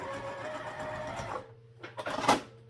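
A sewing machine runs in a quick whirring burst while backstitching a dart on a fabric sling, then stops, followed by a few short mechanical clicks and a brief second spurt.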